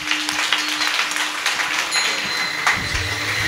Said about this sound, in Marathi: टाळी वाजवा गावकऱ्यांसाठी आमच्या